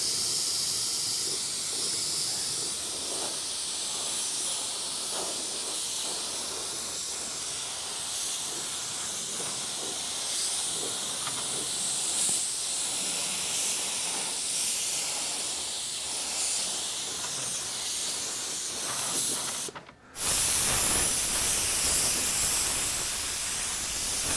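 A spray gun held at a partly pulled trigger for low pressure and little overspray while painting a car fender gives a steady, loud hiss that runs unbroken and cuts off for a moment near the end before resuming.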